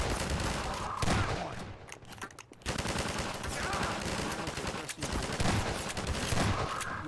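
Sustained gunfire from a first-person shooter game such as Half-Life 2 or Prey, loud and dense throughout with rapid bursts layered over battle noise and a brief lull near the middle.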